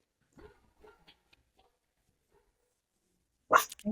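Dog barks in a short close burst near the end, after a stretch of faint indistinct sounds, loud against otherwise quiet background.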